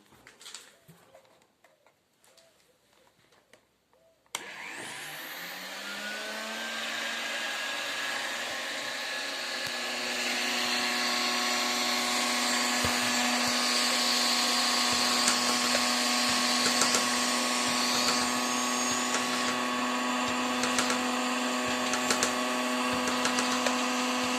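A vacuum pumpkin seeder built from an SPCh-6 section and mounted on a DTZ 570 walk-behind tractor starts after a few quiet seconds. It settles into a loud, steady whirring drone that grows slightly stronger and keeps running with no talking.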